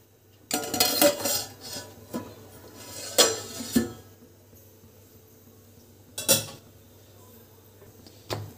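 Metal lid and pot clatter as a biryani pot is covered for cooking, several sharp clanks and scrapes in close succession, then a final clink after a pause, with no talk.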